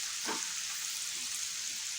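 Onions fry gently on low heat in a pan for a white gravy, a steady close hiss of soft sizzling with a faint stir or scrape early on and no talking.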